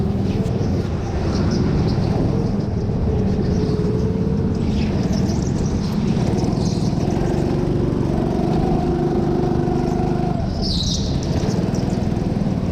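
Go-karts race around an indoor Teamsport track in Cambuslang, a dense, continuous engine drone with rising and falling revs from several machines, loud and close.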